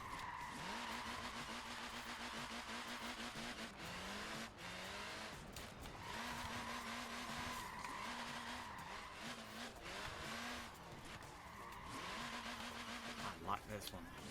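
A BMW E30 driven hard in Forza Horizon 4, its engine droning and revving continuously while tires squeal in repeated skids, loud and close, with someone talking over it.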